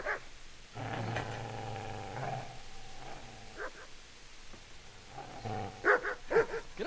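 Dog in the medieval game Kingdom Come: Deliverance barking and growling at close range, with a sustained snarl early on and sharper bark bursts near the end.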